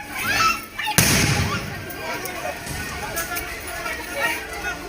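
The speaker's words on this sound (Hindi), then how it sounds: "सुबह 10 बजे कूच बिहार के सिताल कुची में अचानक फायरिंग की आवाज आई।" A sharp gunshot-like bang cracks out once amid crowd noise and voices during election-day violence at a polling booth in Sitalkuchi, Cooch Behar, West Bengal, followed by distant commotion and scattered faint pops.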